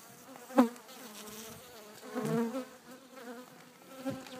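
A low buzzing drone of many honeybees in a Dadant-Blatt hive during a winter inspection fills the air, swelling and fading, with an occasional louder bee passing close.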